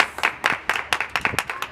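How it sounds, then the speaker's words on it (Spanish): A small audience at a mariachi birthday performance claps, with scattered, uneven handclaps in quick bursts, fairly close and moderately soft, and no voices over them. "Y ese aplauso muy bonito."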